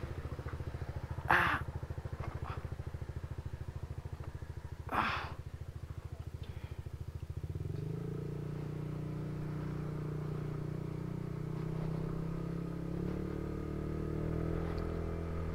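Yamaha Nmax 155 scooter fitted with a JVT Version 3 exhaust, not yet remapped, droning steadily while ridden on the road, heard through an open helmet visor, with wind rumble and a couple of brief sharp pops, then the engine note climbs as it accelerates.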